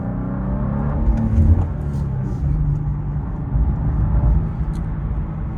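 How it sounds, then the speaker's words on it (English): Engine of a 2024 BMW M2 with a manual gearbox and automatic rev matching: a loud, steady low drone with gentle swells in revs and no talk over it. "the car automatically rev matched for me, and I try to blip to rev match"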